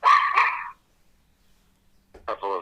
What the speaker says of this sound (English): sorry about that, little dog barking